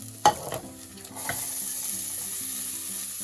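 Onions and carrots sizzle steadily in a pan for a mince and tatties stew, with a sharp clatter of stirring near the start before the frying settles into a constant close hiss.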